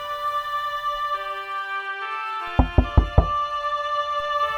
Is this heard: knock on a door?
yes